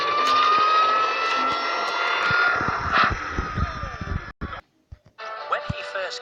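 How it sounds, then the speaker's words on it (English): Hugo, the propeller engine from Thomas and Friends, runs with a steady airplane-like drone, then cuts briefly near the end and resumes, while voices talk over it. "does this propeller make you go as fast as they say it does, Hugo?"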